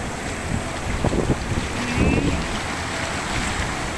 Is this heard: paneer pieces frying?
no